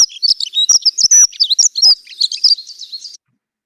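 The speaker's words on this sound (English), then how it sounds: "my local dunnock was singing a full territory song" A dunnock (hedge sparrow) delivers its full territory song: a rapid, jangling warble of high, thin notes running continuously for about three seconds, close and clear, then stopping abruptly into silence.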